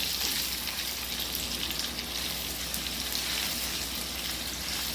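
Cut pieces of dough for Kashmiri shufta fry lightly in hot oil, giving a steady, dense sizzle like light rain that runs without a break.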